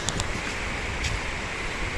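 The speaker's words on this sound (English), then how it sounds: "The waterfall is quite close by, as you can hear from the sound." A waterfall rushes close by in a forest, giving a steady broadband roar of falling water that holds constant throughout with no voices.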